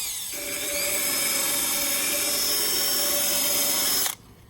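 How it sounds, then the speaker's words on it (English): A power drill whirs loudly at a steady high pitch for about four seconds, cleaning buildup off the inside of a smoker lid down to bare metal, then cuts off abruptly. "I'm running the drill until I get to the bare metal."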